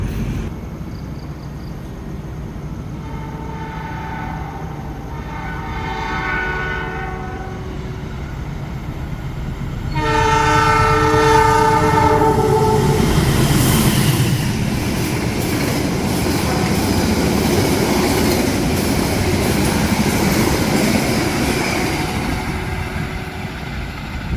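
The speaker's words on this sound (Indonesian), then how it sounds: "karena harus disusul oleh kereta api Gajayana dari stasiun Gambir tujuan stasiun Malang" Gajayana express train from Gambir to Malang overtaking at a station, heard from aboard a waiting train: steady rumble and wheel noise building loudly around the tenth second, with tonal squeals and clatter as it passes close by.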